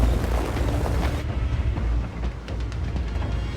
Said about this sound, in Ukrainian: зараз знову артилерія стріляє